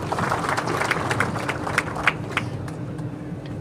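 Applause from a graduation diploma award ceremony crowd, a dense steady roar of many hands clapping at moderate distance, sustained without a break through the whole stretch.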